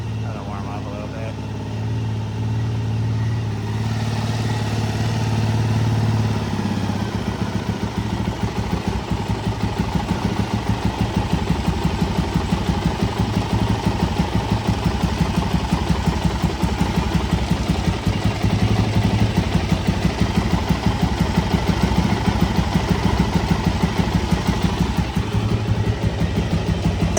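A Suzuki LTZ 400 ATV engine idles steadily as it warms up, a close, continuous low chugging putter with a slight shift in tone early on.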